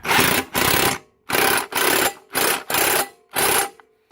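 An impact wrench hammers the blade bolt tight on a Murray MTD push mower in six loud, close bursts of rattling, each lasting about half a second, with short gaps between them.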